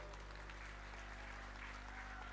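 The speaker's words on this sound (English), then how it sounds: "Claps for Vaibhav, please." An audience at a university convocation ceremony applauds in a steady, dense patter of many hands, continuous across the stretch over a low constant hum from the hall's sound system, without speech.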